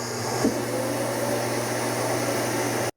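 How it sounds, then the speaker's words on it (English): A Roomba Combo 10 Max AutoDock runs its loud vacuum suction while emptying dirt from the robot, a steady, close whooshing roar that holds for about three seconds and then cuts off sharply. "there was the super loud vacuum suction as it pulled all the dirt up into the AutoDock"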